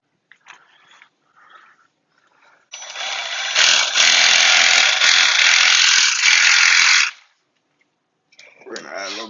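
Power tool scrubbing tile grout that has been wetted with water and baking soda, a loud steady buzzing grind lasting about four seconds, with a few faint handling noises before it and a brief voice afterward.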